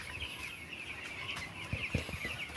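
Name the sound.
chickens clucking at a poultry farm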